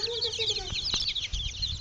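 High, rapid peeping of many newly hatched native chicks fills the air, with a hen's low clucks underneath and a few soft thumps.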